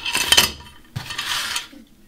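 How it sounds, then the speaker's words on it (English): Small 5mm metal bolts or screws drop into workbench parts, two quick clattering bursts of metallic rattling close by, separated by a short pause. "drop in all of the 5mm bolts or screws that are required"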